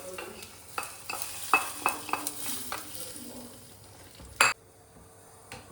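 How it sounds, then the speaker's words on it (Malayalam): Chicken curry stirred and fried in a pan, with a series of sharp spoon scrapes and clinks against the pan over a soft sizzle, close and fairly quiet, and one louder clatter near the end. "കടുക് പൊട്ടിച്ച് ചേർത്ത് കൊടുത്തിട്ട് നന്നായി ഒന്ന് ഇളക്കി."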